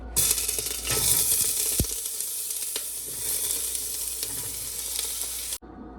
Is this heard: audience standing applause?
no